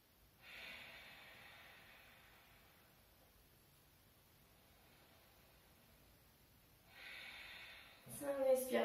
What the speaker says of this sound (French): Respiration lente et profonde en Ujjayi.